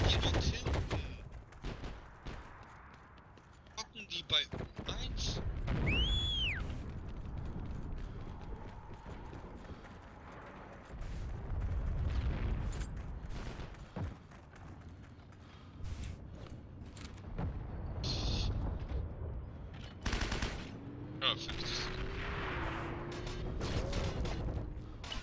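Gunfire aimed at a tank in the video game Heroes & Generals crackles in scattered bursts among clanking mechanical noise and creaks, with people talking at times.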